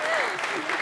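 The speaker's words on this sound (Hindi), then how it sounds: "उनके जाने में भी तालियां बजाओ" Live comedy show audience clapping in a sustained, dense burst of applause that runs steadily throughout, fairly close and even in loudness.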